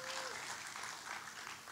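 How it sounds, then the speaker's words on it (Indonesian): Congregation applauding in church for Jesus, a faint, diffuse patter of many hands clapping across the room, steady and fairly distant. "Kasih tepuk tangan buat Tuhan Yesus."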